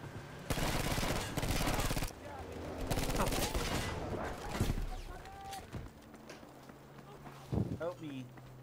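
Gunfire in the shooter game Battlefield V, with bursts of rapid shots and explosive thuds mixed with running footsteps and other battle noise, fairly dense at first, then sparser, with brief speech-like sounds near the end.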